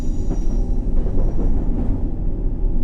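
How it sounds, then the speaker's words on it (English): Subway train departing Baker Street station on the H&C line in the World of Subways 3 simulator, a loud continuous low rumble with rail clatter and faint squeals, steady throughout with no speech. "the train in front of me is now departing from Baker Street"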